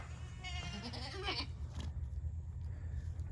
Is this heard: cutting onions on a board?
no